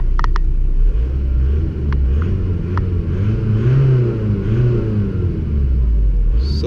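A 1998 Audi A3 with a 1.9 TDI diesel engine idles steadily nearby, giving a continuous low rumble with a slight wavering throb and a few faint clicks.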